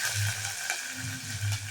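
Curry leaves hit hot tempering oil with urad dal, cumin and mustard seeds for semiya upma, giving a close, steady sizzle with a few soft stirring scrapes and no talk.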